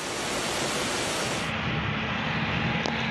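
Heavy hail pours down over Antalya like a downpour, a dense, continuous hiss and patter that holds steady throughout, with a brief sharp tick near the end and no talking.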